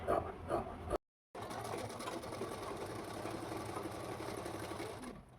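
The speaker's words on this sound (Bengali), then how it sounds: "নন ওভেনের দিকে ফেব্রিকের যেটা দিয়ে বর্ডার দিচ্ছি, সোজা সাইডটা উল্টো দিকে রেখে সেলাইটা দিয়ে নিচ্ছি।" A sewing machine stitches a fabric border onto non-woven backing, running in a steady, close, continuous whir with one brief pause near the start.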